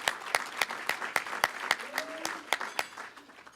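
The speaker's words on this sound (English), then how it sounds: "Round of applause." Applause at an annual chamber of commerce business awards meeting, heard as steady, evenly spaced claps close by with a faint voice briefly underneath.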